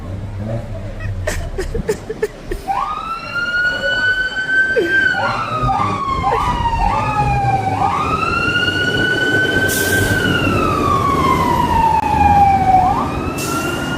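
A loud wailing emergency siren rises and falls with sweeping up-and-down tones, joined by another siren and a brief horn-like blare, amid street noise and scattered voices, continuous throughout.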